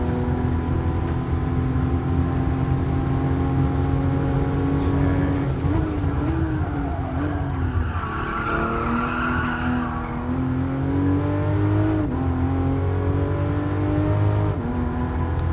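Race car engine droning steadily in the GT Sport racing game, pitch sliding as gears change, with a stretch of skidding tire squeal midway, loud and continuous with no talking.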